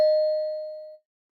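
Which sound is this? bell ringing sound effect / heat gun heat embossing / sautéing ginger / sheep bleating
bell ringing sound effect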